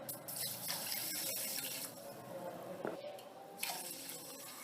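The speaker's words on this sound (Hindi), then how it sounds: "इसमें 2 गिलास पानी के डाल देंगे" Water poured from a glass into about a cup of sugar in a pan to make syrup for homemade jalebi, a steady splashing, trickling pour close by with no talk.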